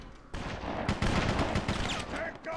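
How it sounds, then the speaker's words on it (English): Gunfire from BloodRayne, a dense volley of loud shots in quick succession, crackling and echoing for a couple of seconds with a brief lull at the start. "considering I'm firing bullets and whatnot"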